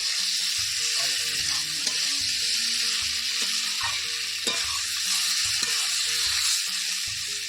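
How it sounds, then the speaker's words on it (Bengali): Tomato masala with fried cauliflower and potato sautés in a pan for a rui fish curry, a dense continuous sizzle close by with rhythmic stirring knocks and scrapes throughout, with no talking. "ভালো করে একটু নাড়াচাড়া করে অল্প সময় কষে নেব।"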